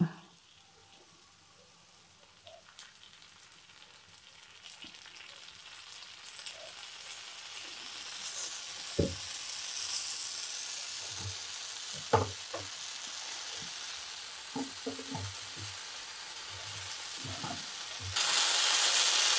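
A dosa fries in oil on a hot pan, with a steady crackling sizzle and a few louder pops and spatters, close by and without talk.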